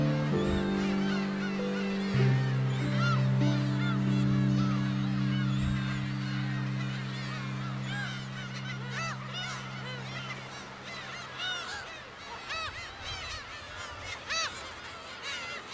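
Seagulls calling near a nest on Dokdo island, a chorus of loud honking, nasal cries repeating steadily over a busy colony din, close and continuous.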